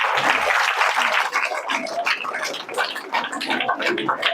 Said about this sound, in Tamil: இந்த பாராட்டுக்கும் அவங்களுக்கு ஒரு கைத்தட்டு கொடுத்தீங்கன்னா நல்லா இருக்கும்